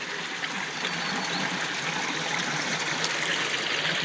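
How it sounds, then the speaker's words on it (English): Running water in a levada irrigation channel on Madeira, Portugal, a steady, close, continuous rushing and trickling flow that stays at an even level throughout with no other sounds. "you can probably hear that sound of running water behind me."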